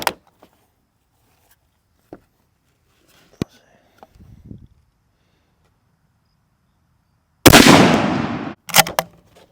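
A 7mm Browning bolt-action rifle fires at a pumpkin outdoors, a sharp loud crack followed by a sustained burst of noise and a couple of further sharp impacts, with quiet crickets and small sounds beforehand.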